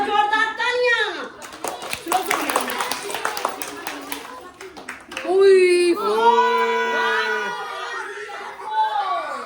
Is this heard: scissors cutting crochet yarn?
no